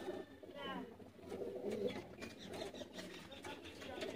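A pair of umbrella-type pigeons coos in soft, low throaty bursts, close by and fairly quiet, while someone talks over and between the calls.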